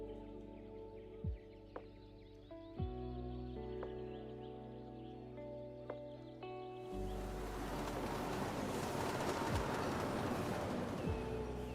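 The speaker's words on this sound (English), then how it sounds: "It's a subway that goes from the port." A subway train from the port passes in the distance, a low rumble with drawn-out tonal whines that swells into a broad, steady roar of noise in the second half, with occasional small clicks.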